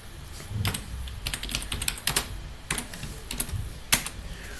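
A short command typed on a computer keyboard, shown as a steady run of close, crisp key clicks at uneven intervals with a few sharper strikes, and no voices.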